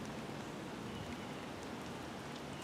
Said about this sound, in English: The rain is coming in now.